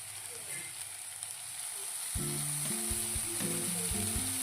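Grated paneer hits a hot pan for paneer bhurji, raising a steady hiss and sizzle, joined midway by stirring with scraping and knocking against the pan, close and moderately loud.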